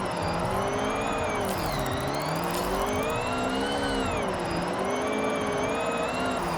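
A 1997 Honda Civic Type R drifting in a racing video game, its engine droning and revving steadily with pitch swells as the tyres squeal through continuous slides, loud and close throughout.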